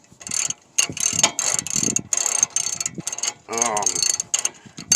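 A ratchet wrench clicks in quick bursts while van parts are tightened, the sharp pawl ticks close and loud, broken by short pauses and a brief metallic squeak.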